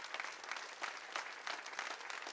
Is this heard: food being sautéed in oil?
no